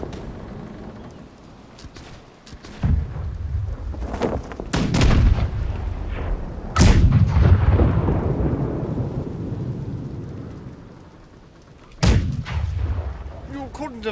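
Ship cannons firing in the naval video game Blackwake, several heavy booming blasts spread irregularly with long rumbling decays, loud and close, with a voice speaking briefly between shots.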